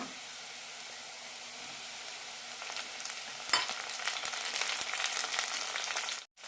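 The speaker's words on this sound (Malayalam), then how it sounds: "സവാള ഇത്രയും ചുവന്നാൽ മതി ഇനി ഇതിലേക്ക് തക്കാളിയും പച്ചമുളകും ഇടാം" Onion, tomato and green chili sautéing in a pan for cauliflower masala curry: a quiet steady hiss that jumps into louder crackling sizzle as the ingredients go in, with brief stirring scrapes and a short pause near the end.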